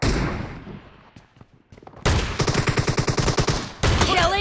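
Rapid bursts of M10 shotgun fire in the mobile battle game PUBG Mobile during a team deathmatch, a dense string of sharp repeated blasts after a quieter lull, loud and close.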